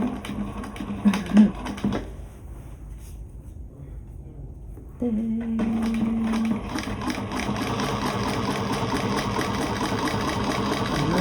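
A sewing machine bastes the edges of a shoulder bag, starting after a few clunks and a quiet pause, then running continuously with a steady rapid mechanical whir, close and prominent.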